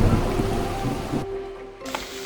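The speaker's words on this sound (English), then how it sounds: "now it's hailing" Hail falls during a storm on a hiking trail, a dense hissing patter of ice and rain close around the listener, with a brief gap before the clatter resumes.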